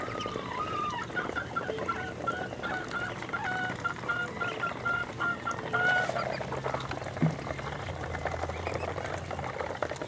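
Ducks and chickens calling at feeding time on a farm, a busy mix of quacks, honks and clucks overlapping continuously, with a few clearer calls standing out near the listener.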